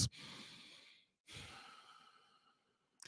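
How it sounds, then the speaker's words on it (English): Two slow, deep exhalations, airy and breathy, each lasting about a second, with a sharp intake of breath at the very start and end. "breathing out for a longer breath than you breathe in"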